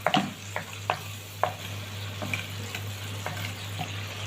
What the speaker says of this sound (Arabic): هننزل على طول بالصلصه.